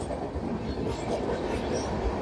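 A passenger train rolls into Ghatshila station, a loud continuous rumble of wheels and carriages with faint rhythmic clatter, heard from on board, no talk.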